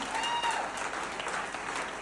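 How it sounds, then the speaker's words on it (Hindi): An audience at a speech-and-recognition programme in Narnaul bursts into strong, sustained applause, a dense wash of many clapping hands at even loudness throughout. "जोरदार तालियां"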